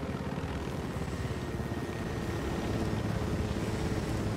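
Helicopter in the video game Ghost Recon Wildlands, a steady close rotor roar with rapid low thumping blades and broad whooshing noise that grows slightly louder.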